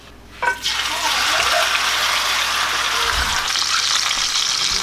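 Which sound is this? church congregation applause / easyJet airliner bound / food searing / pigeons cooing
food searing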